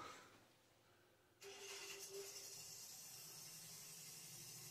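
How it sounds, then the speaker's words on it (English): A Ford Popular's engine starts after a quiet moment, catching abruptly and settling into a steady running hum with a faint squeal, recorded nearby. "all it is just him starting the car up"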